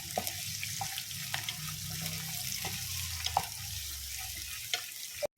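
Garlic, ginger and chilies sautéing for a lemon pickle, a steady hiss with soft scattered scrapes and taps of a spoon against the pan, close and fairly even throughout, ending in a brief sharp knock.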